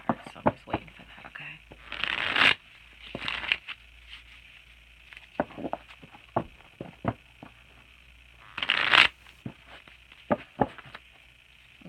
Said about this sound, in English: it's taking a while for me to shuffle these cards for you